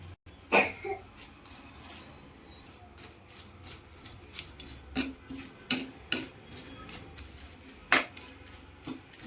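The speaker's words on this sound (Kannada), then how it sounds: "ಇವಾಗ ಡ್ರೈ ಫಿಶನ್ನು ಹುರ್ಕೊಳ್ಳೋಣ." Dry fish being dry-roasted in a pan for a Mangalore-style chutney, giving sharp intermittent scraping and clinking strokes of a utensil against the pan, close and fairly quiet, with no talking.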